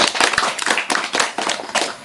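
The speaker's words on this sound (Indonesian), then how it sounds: "Oke, tepuk tangan." A small group claps hands at a family welfare community gathering, loud, close and brisk with distinct individual slaps over about two seconds, no talking.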